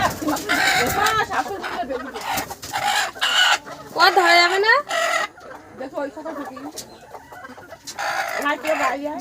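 Hens clucking and squawking in agitated bursts close by as one is chased and grabbed for slaughter, with a person speaking briefly among the cries.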